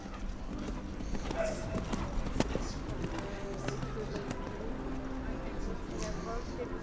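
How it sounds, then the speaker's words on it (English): Horse hooves clip-clopping in a steady trot across a dressage arena at the FEI Eventing European Championships, an 11-year-old horse ridden for France, with a commentator talking over the rhythmic hoofbeats. "Stéphane riding this horse in memory of his friend Thais"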